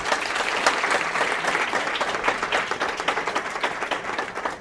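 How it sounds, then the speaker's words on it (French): Sustained applause from a conference audience honouring the coach of the French wheelchair basketball team, dense and steady throughout, with a faint voice briefly under the clapping. "qu'on peut applaudir et remercier"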